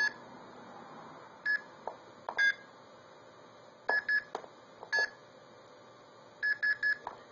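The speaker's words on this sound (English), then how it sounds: "And I can do the same in DTMF mode." Short bursts of dual-tone telephone dialing beeps from an Arduino-based blue box, coming in small clusters of quick tones separated by pauses, clear and fairly close with no talking.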